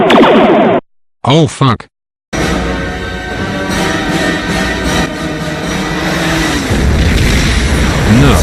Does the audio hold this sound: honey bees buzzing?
no